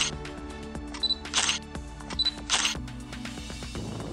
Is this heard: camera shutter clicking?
yes